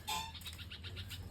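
A bulbul calling outdoors, a brief series of short, bright chirping notes repeated at a moderate distance over a low background hum.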